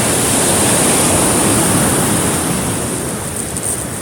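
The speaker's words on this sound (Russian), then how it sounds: "Вот море." Black Sea waves wash onto a beach in Sochi in December, a loud, close, unbroken roar of surf and rushing water that eases only slightly toward the end, with no talking.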